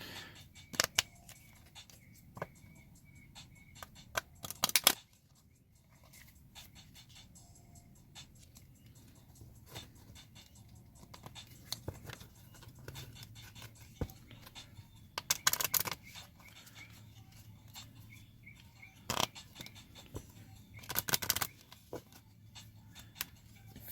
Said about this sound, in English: Shuffle the 40 sword cards and draw 15.